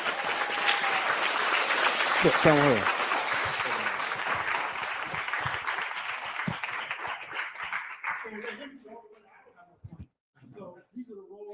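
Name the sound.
applause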